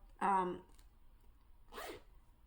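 The zipper of a Columbia extra small 3/4 zip fleece is pulled in two short, close rasping strokes, one up and one back, with a pause between and no talking over them.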